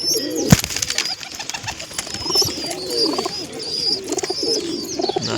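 White pigeons cooing in a loft, repeated soft throaty coos over a busy background with a sharp knock near the start and brief higher chirps.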